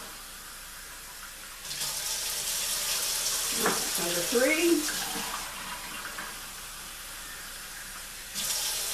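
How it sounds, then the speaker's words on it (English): Warm water is poured into a bowl of bread dough, a steady splashing stream that runs for several seconds with a voice speaking over it, then tapers off before a brief splash resumes at the end. "Then you're going to add 3 more cups of water for a total of 4 cups warm water."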